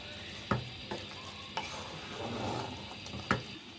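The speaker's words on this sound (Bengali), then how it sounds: "আমার মাংসটা দেওয়া হয়ে গেছে এখন এটা চালের সাথে ভালো করে মিশিয়ে নিচ্ছি" Spiced beef being stirred into rice in a pot for beef tehari, with a low frying sizzle and a few sharp spoon knocks against the pot, close and fairly quiet.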